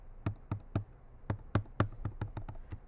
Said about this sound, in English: You can use the bracket keys on your keyboard.